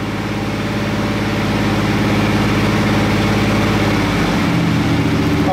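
A car engine fitted with a Carter AFB carburetor runs steadily and loud, held at a raised speed between about 1,000 and 2,000 RPM, then drops back toward a slightly lumpy idle near the end.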